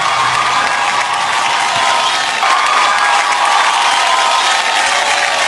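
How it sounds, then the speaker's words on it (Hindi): A large crowd at a televised award show applauds and cheers, a dense, loud wash of clapping and voices filling a big hall, steady from start to finish. "जैकलिन के लिए जोरदार ताली हो जाए एक बार."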